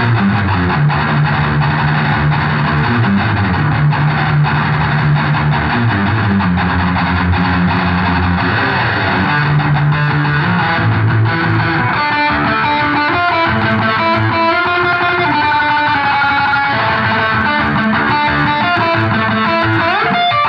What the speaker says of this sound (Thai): ตัวนี้แล้วก็มาบวกกับตัวนี้เสียงแตกก็พึงพอใจมากครับ